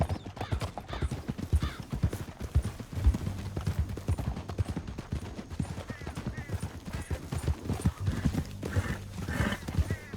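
Steady clip-clop of horse hooves trotting close by in the video game Red Dead Redemption 2, with an occasional whinny and faint voices mixed in, continuing throughout.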